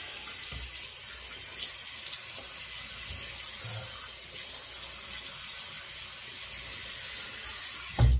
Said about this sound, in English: Now we'll do a cold water rinse.